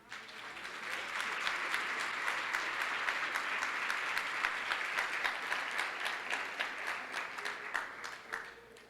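A church congregation claps steadily for several seconds, the applause building quickly, holding, then tapering into scattered claps at the end.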